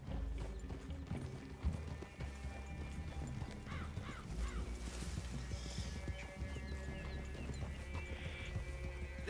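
Horses clip-clop through a forest clearing in Red Dead Redemption 2, steady hoofbeats with a snort or whinny, and birds caw faintly in the background, with no talking.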